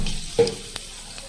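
Mustard seeds crackle and sizzle in hot oil for tamarind rice tempering, with a few sharp pops and a stirring clink, close and fairly quiet.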